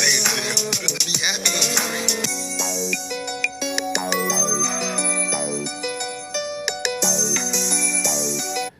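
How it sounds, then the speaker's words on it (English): A synth bass sound plays in a produced music track, bright bell-like synth notes stacked over low tones in a quick, busy melodic pattern that stays loud and continuous throughout, with no talking. "I want you to remember that synth bass sound."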